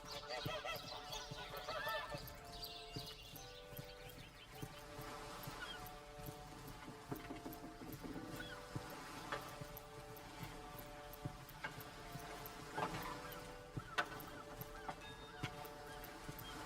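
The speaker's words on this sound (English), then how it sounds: "Why do I still hear geese?" Geese honk repeatedly in the video game Divinity: Original Sin, low-level and scattered over game ambience and background music.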